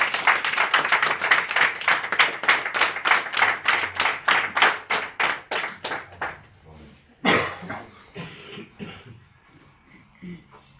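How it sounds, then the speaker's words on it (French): A church congregation claps in a brisk, steady unison rhythm that fades out after about six seconds, followed by a burst of scattered noise and quieter voices. "J'aimerais qu'on applaudisse Sébastien."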